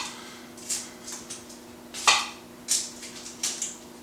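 Knife slicing banana shallots on a chopping board: a handful of crisp, separate cuts and taps, moderately close, with short pauses between them and no talking.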